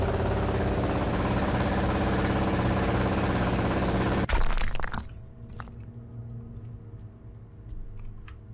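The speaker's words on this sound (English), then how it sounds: "Okay, jackhammer." A video game jackhammer in UnderRail hammers loudly and continuously, then cuts off abruptly, followed by scattered clicks and a lower hum.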